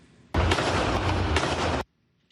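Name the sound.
gunfire from the Montreal shooting, witness video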